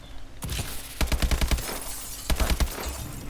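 Rapid bursts of gunfire in Call of Duty: Advanced Warfare, loud clustered shots in two volleys with sharp cracks, alone without talk.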